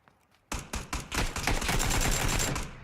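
Rapid gunfire in the battle royale game PUBG, a few sharp shots followed by a dense sustained burst of loud cracking fire lasting a couple of seconds.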